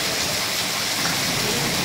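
Heavy rain pours steadily over the town of Khamgaon and its surroundings, a dense, continuous broadband hiss with no breaks, loud and close throughout the short stretch.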